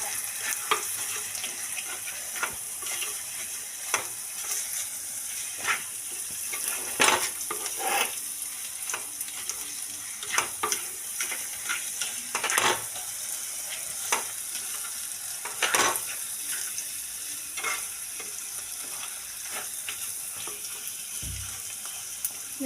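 Prawn roast being stirred and fried in a pan, with steady sizzling and repeated scraping strokes of the spoon, close and fairly loud, no talk.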